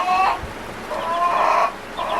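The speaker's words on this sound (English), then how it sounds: "the Western Rustic chicks, and then the Cornish Cross, which are the broilers" Western Rustic and Cornish Cross broiler chicks cheep and peep in repeated high chirps, close and fairly loud, with no talking.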